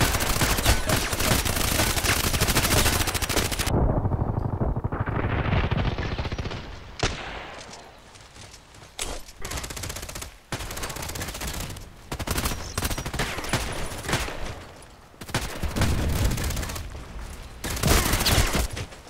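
An MP5k fires rapid automatic bursts in the shooter game Contract Wars, loud and close. A long sustained burst comes first, followed by a string of shorter bursts and single shots with brief pauses between them.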